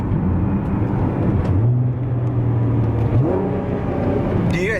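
A Nissan GT-R engine heard from inside the car while driving, a throaty drone that climbs and holds a steady revving tone, then rises again with a mechanical whir.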